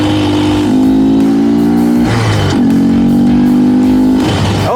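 A Honda Grom motorcycle fitted with a cheap performance mod revs through its gears, the engine note climbing, dropping at each shift and climbing again, loud and close throughout.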